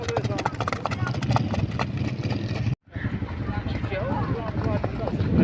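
A fast horse clip-clops along at a horse fair in Dera Ghazi Khan, on Sakhi Sarwar Road. The hoof beats are quick and steady, with crowd noise and voices mixed in, and there is a brief silent gap midway.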